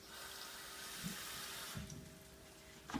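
Water runs steadily from a kitchen tap into a container while a Thai red chicken curry is being made. The faint, continuous hiss of the flow holds level throughout, with small splashy bumps along the way.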